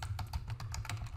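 Quick, light computer keyboard typing, a short run of soft key clicks close by and fairly quiet, with no voices.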